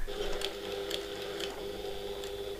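Sewing machine stitching with a very small stitch length, a soft steady mechanical whir with faint regular clicks about every half second, quiet and close with no voices.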